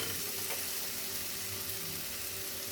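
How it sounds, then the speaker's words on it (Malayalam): Butter melted in a pan for raw mango rice, sizzling steadily with stirring, a continuous close frying hiss with no voices. "ബട്ടറെല്ലാം ഉരുകി നമുക്ക് 1 മിനിറ്റ് ഇതൊന്ന് ഇളക്കി കൊടുക്കാം"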